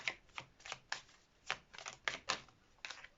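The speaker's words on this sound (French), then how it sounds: "Allez, on va tirer quelques cartes de cet oracle." Oracle cards are shuffled and drawn in a quiet series of soft, irregular riffling taps and flicks, close by and alone.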